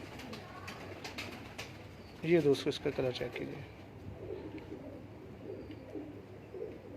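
A domestic breeder pigeon gives a short run of soft, throaty coos near the middle, close and clear, while people talk around it over a quiet background.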